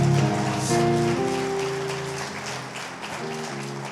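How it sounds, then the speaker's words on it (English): Applause fills a church youth service, a steady wash of clapping that runs the whole moment with sustained music tones underneath and no talking. "Can we just give her one more round of applause?"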